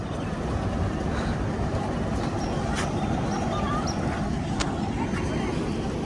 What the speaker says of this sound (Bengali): এই ট্রেনে আসছি এখন এই ইঞ্জিনটা চেঞ্জ করবে